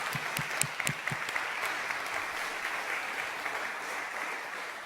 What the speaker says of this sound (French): Et on peut l'applaudir, en effet.